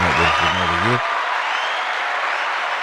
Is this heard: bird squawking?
no